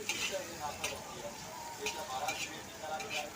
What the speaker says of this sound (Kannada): ಇವಾಗ ಸ್ವಲ್ಪ ಚೆನ್ನಾಗಿ ಫ್ರೈ ಆಗಬೇಕು